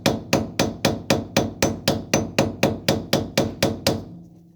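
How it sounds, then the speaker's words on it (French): A hammer taps a wheel bearing into the front hub of an Audi S4 B7 4.2 V8, about fourteen sharp, evenly spaced metallic strikes at close range, then a short ringing fade. "Tu vois, tu tapes avec un marteau, elle descend toute seule."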